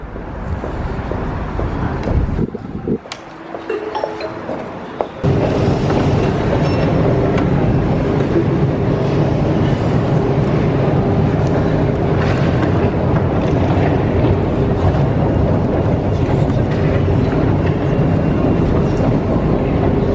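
A steady, loud rumble of a Moscow metro train in motion fills the whole stretch, briefly dipping quieter early on before the roar returns.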